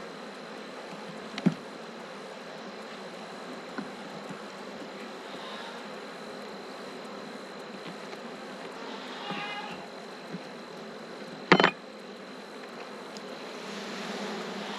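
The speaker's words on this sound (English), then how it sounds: "Lots of bees." Honeybees swarming around a frame lifted from a hive on a farm: a constant low buzzing drone fills the air close by, with occasional louder handling knocks and brief bumps.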